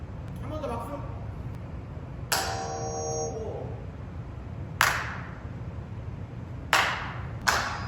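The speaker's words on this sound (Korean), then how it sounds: "한 번 더 박수!" Church congregation clapping hands during a sound check, with short sharp bursts of claps spaced a few seconds apart over a steady low background hum.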